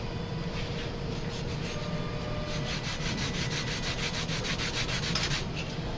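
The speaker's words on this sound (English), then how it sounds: "best to move the part and have a large piece of sandpaper that's stationary, and you pass the small part over" A small wooden guitar part is rubbed back and forth over a large stationary sheet of sandpaper during a guitar setup, giving a steady, close, continuous scratchy sanding sound with no talk.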